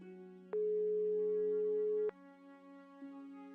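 A telephone tone in the game Broken Sword 5 sounds as a single steady electronic beep lasting about a second and a half over a quiet background hum, no voices.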